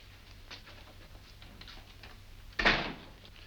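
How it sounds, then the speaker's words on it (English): A door shuts with a single sharp thump near the end of an old Sherlock Holmes film scene, moderately loud against a quiet room hiss and low hum, with no talk. "Go outside and close the door."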